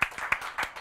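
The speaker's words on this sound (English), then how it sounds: "Applause for Jona." Three sharp, separate hand claps ring out in under a second, a brief round of applause for a player after an exhibition match at a bootcamp event.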